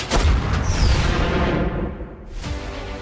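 Heavy gunfire from a film trailer, a loud booming burst right after a shouted order to fire, with a whooshing tail that fades before a second softer impact.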